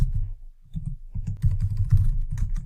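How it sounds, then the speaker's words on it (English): Typing on a computer keyboard during Python coding, rapid irregular key clatter with short pauses, close and moderately loud, no talking. "and typing."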